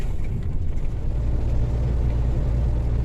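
A truck travels a narrow road between Lokhvytsia and Poriatyn, its engine and tyres giving a steady, close, low droning rumble inside the cab.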